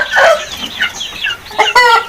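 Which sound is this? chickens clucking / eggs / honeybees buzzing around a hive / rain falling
chickens clucking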